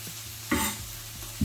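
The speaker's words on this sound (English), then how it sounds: "I'm going to turn the heat to medium-low and start adding in my cabbage" Cabbage is tossed into a pan of browned onions over medium-low heat, with brief bursts of sizzling and stirring scrapes between quieter frying hiss.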